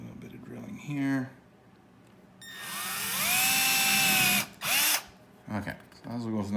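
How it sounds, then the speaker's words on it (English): A cordless power drill spins up with a rising whine and holds a loud steady drilling run, then a short second burst, on a Revel electric skateboard kit; someone talks briefly before and after. "A little bit of drilling here."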